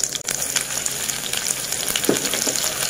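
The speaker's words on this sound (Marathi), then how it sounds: "त्यामध्ये आता आपण हे तेल गरम झाल्यावर 2 चमचे मी जिरं घालणार आहे।" Cumin seeds and bay leaf sizzling in hot oil in a pan, a steady, loud frying crackle throughout with no voices.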